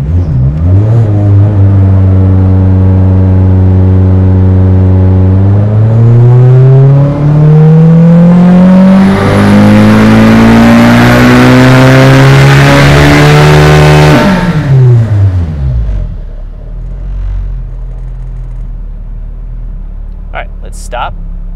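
A turbocharged B-series engine in an EK Honda Civic on a dyno pull, loud and close: steady idle, then a long climbing rev with rising turbo whoosh, a sharp cut-off and the engine winding down to quiet.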